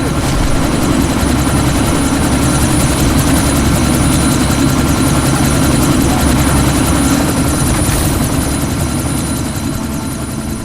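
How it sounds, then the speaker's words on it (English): A helicopter taking off in the video game Deus Ex: Mankind Divided, a loud continuous rotor chop and engine roar that holds steady and close for the whole stretch. "That chopper's about to take off."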